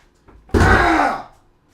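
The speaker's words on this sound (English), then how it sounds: "let me close this fucking door" A door pulled shut in a room, a single solid thump followed by a brief, fading rumble.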